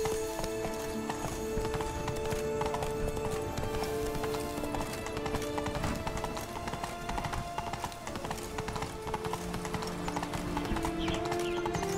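Roach the horse trotting in The Witcher 3, a steady rhythmic clip-clop of hooves over the whole stretch, with faint background music and occasional snorting.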